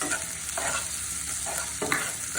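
Panch phoron spice mix frying in hot oil for achari dal, a close sizzling hiss broken by a few scraping stirs of a spoon, with no voices.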